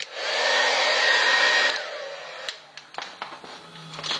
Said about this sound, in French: Alors comme matos, on prend un sèche-cheveux, parce que ça peut servir.